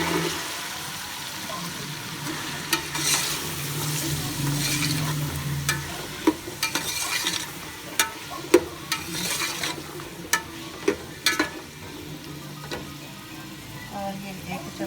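Carrots, peas and potatoes tumble into a hot pan for vegetable pulao, followed by steady sizzling and frying with scattered clicks of stirring and utensil taps, close and moderately loud.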